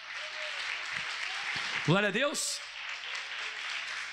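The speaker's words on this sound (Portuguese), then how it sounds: "Aplauda bem forte ao Senhor Jesus." Congregation at a Brazilian evangelical church service applauding loudly and steadily throughout, with a voice briefly exclaiming over the clapping midway.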